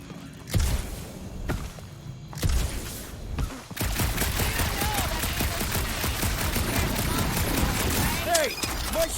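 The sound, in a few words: gunfire in Guardians of the Galaxy video game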